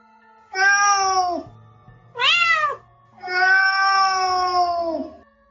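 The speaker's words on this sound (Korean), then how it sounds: "고양이 우는 소리가 어찌나 크던지 그렇게 큰 건 또 처음 들었어." A cat meows loudly three times in a row, long drawn-out wails with a short cry in between, close and clear with a faint low hum underneath and no talking.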